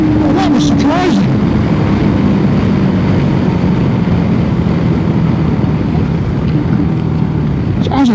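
Voge 300 Rally motorcycle carrying two riders at 70 mph in sixth gear, a steady engine drone buried under loud, constant wind roar with a brief voice near the start.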